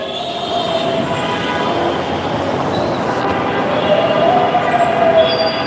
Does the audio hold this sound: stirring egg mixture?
no